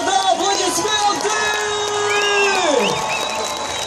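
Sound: applause

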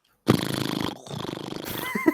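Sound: voice imitating an engine sound

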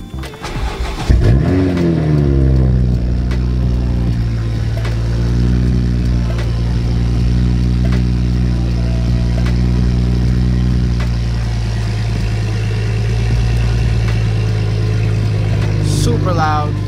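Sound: car engine driving off on a spin

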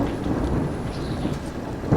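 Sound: heavy rain and thunder in the video game Cityconomy

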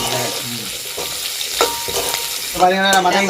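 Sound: onion and green chili frying in pan for squid curry

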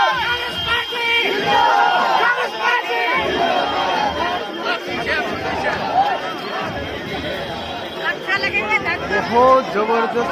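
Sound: large crowd at Rahul Gandhi's Bharat Jodo Yatra

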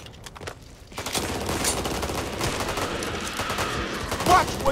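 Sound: gunfire in Back 4 Blood video game

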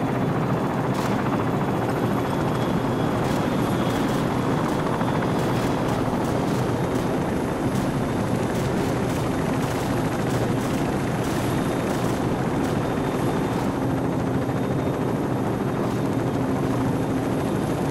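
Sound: helicopters flying in, from video game Call of Duty 4

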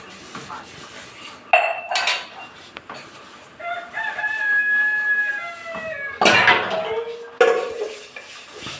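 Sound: washing dishes, pots and pans

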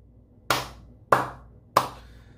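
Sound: slow clap

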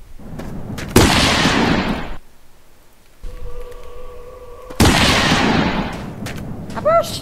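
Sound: shotgun firing in the video game The Long Drive

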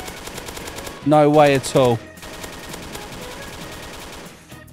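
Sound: gunfire from weapons in Roblox video game

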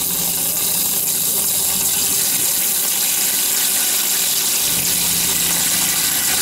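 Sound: water running from a motorhome shower head into the sink

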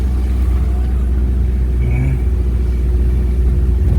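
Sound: weak car engine straining uphill

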